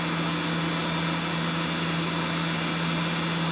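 A Haas VF0 three-axis CNC vertical machining center spindle runs at 10,000 RPM, giving a steady, fairly quiet high whine with a constant hum beneath, unbroken and close for the whole stretch.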